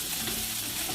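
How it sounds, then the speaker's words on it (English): Hash browns fry in a pan and turn crispy, giving one brief, dense and even sizzle that stays loud and close from start to finish, with nobody talking. "I'm getting ready to flip the hash browns as they're getting crispy"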